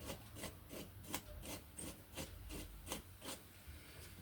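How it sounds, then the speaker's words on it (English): A small drill bit twisted by hand through dollhouse material, giving a steady run of soft scraping rasps, about ten strokes in a regular rhythm, close and quiet, with no talking. "I can just place the chosen drill on here and then turn it by hand"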